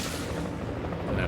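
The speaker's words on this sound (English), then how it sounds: "We're gonna use our flashbang here." A flashbang grenade goes off in the video game Alan Wake, producing a loud, low, rumbling boom that fills the whole short moment.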